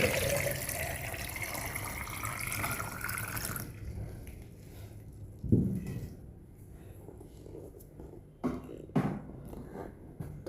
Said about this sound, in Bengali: একদম উপর থেকে ফ্রেশ পানিগুলো ঢেলে নিব।